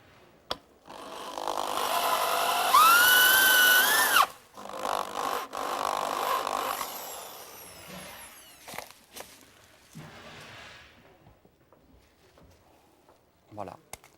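A Taupinette drill bores through dense material, a loud whining power-tool buzz for a few seconds that cuts off, followed by shorter bursts and handling noises, with a voice talking over parts of it.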